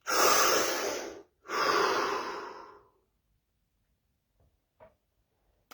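A deep breath drawn in and let out in two long, close, loud breathy swells, followed by near silence with a couple of faint ticks.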